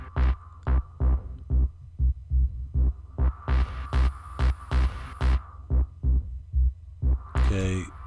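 A synth in Logic 9 pulses through a low-pass filter in steady rhythmic throbs, the tone brightening as the cutoff opens in the middle, then dulling again before a final bright swell.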